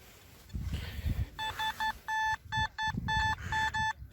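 Repeated electronic beeps from a Nokta Simplex metal detector in park mode 2, sweeping for coins in a park: short and longer tones in an uneven rhythm, loud and close over faint rustling.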